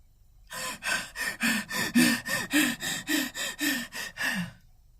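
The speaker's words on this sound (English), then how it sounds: "You was breathing." A person breathes heavily and rapidly, about eleven loud, rhythmic gasping breaths close up after a moment of quiet, with no talking.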